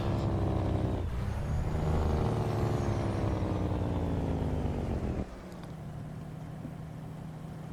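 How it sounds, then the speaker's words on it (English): A heavy truck's exhaust brake in American Truck Simulator roars with a deep, rumbling chatter for about five seconds, then cuts to a quieter, steady engine drone. "I just love listening to that exhaust brake."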